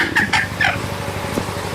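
Village hens with their chicks cluck and call in quick bursts over steady rural background noise, with a fainter call near the end.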